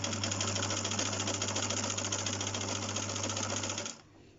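A sewing machine runs steadily, stitching a 1.5 seam on an invisible zip with a constant mechanical whir and rapid needle chatter for nearly four seconds, then stops abruptly.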